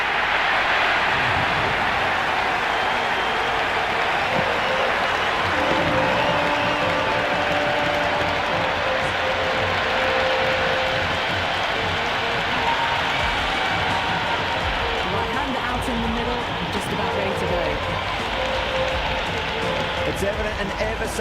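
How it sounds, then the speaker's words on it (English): A packed virtual stadium crowd roars continuously at Eden Gardens in an IPL cricket video game between KKR and DC, loud sustained cheering and applause with swelling peaks, a commentator's voice running over it. "It's evident and ever so audible that the crowd is at near bursting point at today's play"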